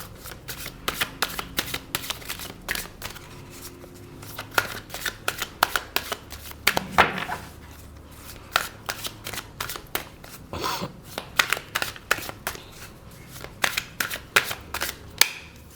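Tarot cards shuffled by hand, a long run of quick, crisp riffling bursts and soft slaps repeating close up with short gaps between.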